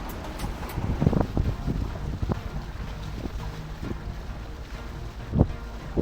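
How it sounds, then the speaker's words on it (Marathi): A houseboat sets off on the Alleppey backwaters in Kerala, with wind buffeting the microphone, water washing by and a few irregular thumps over a low rumble. "आता आपली बोट निघालेली आहे"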